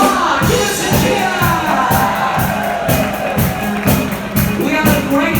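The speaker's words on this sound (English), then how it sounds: "Give us a cheer!" A crowd cheers and claps on a cruise ship deck right after a countdown, a broad steady roar with rhythmic clapping bursts running throughout.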